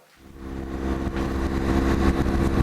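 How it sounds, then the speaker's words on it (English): A BMW GS motorcycle engine on a test ride after fitting an MRA Varioscreen: a steady, close mechanical hum rising slightly in pitch and loudness as the bike pulls away, with no voices. "All we need to do now, go for a test ride."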